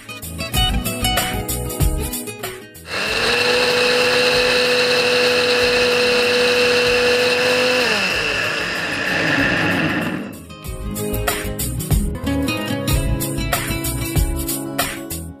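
A kitchen mixer grinder whirs loudly and steadily for about seven seconds as it grinds garlic cloves into paste, a high motor whine that starts abruptly and cuts off, with background music before and after.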